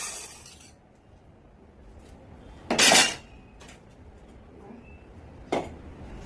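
A metal spoon clinks and scrapes against a plate while rice is served at home, two sharp clattering bursts separated by quiet stretches of faint rubbing.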